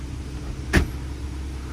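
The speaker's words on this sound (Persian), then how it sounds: "امیدوارم ماشین بره بالا." A car drives up a path outdoors, its engine a low steady rumble throughout, with a brief sharper thump or knock partway through; no talk is heard.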